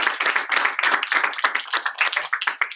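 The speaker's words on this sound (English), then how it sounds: "Can we give a round of applause?" A small group claps at a Saturday basic training meeting, close and brisk, with a burst of uneven hand claps running steadily for a few seconds and no talk.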